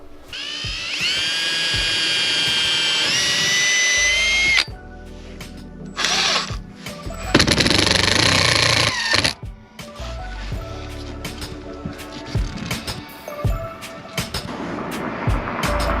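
A power drill whines in several bursts while a roof fan is fitted to a Ram Promaster camper van, revving up and down with pauses between, loud and close, with clattering and mechanical rattles in between.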